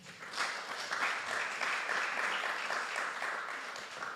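A church congregation breaks into steady applause during a worship service, a dense, continuous patter of many hands clapping that holds evenly throughout and sounds a little distant.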